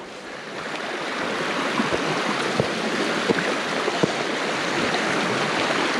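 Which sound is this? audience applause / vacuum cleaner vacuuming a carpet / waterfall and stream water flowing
waterfall and stream water flowing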